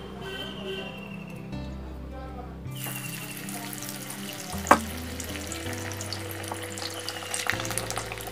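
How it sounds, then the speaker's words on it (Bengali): Sesame fritters, hand-pressed round balls of sesame, frying in hot oil in a home kitchen, giving a steady soft sizzle with faint bubbling throughout, fairly quiet with no talk. "মেখে নিয়ে গোল গোল করে একটু বড়াটা ভাজবো"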